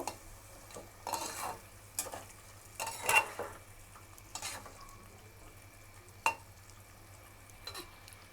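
Bengali-style mutton curry is stirred in a pot after water is added, giving soft, intermittent scrapes and clanks of a spoon over a faint background sizzle, fairly quiet and close.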